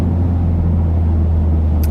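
Interior drone of a VW Golf GTI with a stage 1 tune, a loud, steady low engine rumble holding constant under hard acceleration, with no talk.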